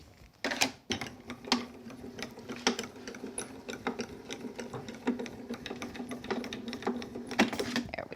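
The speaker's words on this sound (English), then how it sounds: "let's just give it a quick emboss while we're here too. Pop that into place." A card embossing machine runs steadily at close range, giving a continuous mechanical whir and clatter with irregular clicks and thumps throughout.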